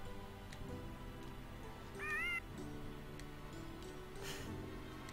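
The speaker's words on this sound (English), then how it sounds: "Bobby the Baby meows like a cat." A baby monster in the Final Fantasy IX video game lets out a single brief, warbling, cat-like meow over a steady bed of quiet game music.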